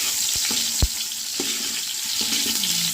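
Onions frying in hot oil for chicken biryani give a steady, close sizzle, broken by a few sharp clinks and scrapes of stirring.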